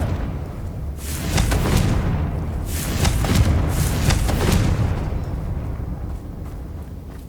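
A Confringo fire spell explodes in the video game Hogwarts Legacy, giving several dense, rumbling blasts with bright crackling bursts over a steady low roar that swells and fades across the moment.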